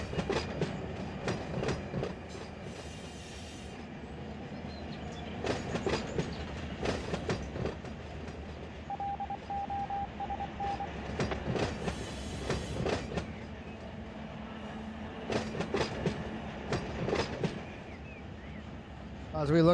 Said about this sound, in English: Let me pull the train out here.